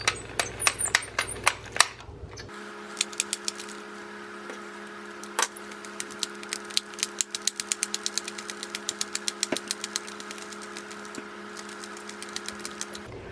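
An Addi knitting machine cranked by hand to make I-cord gives a steady run of sharp plastic clicks and ticks over a faint mechanical whir, close and fairly quiet.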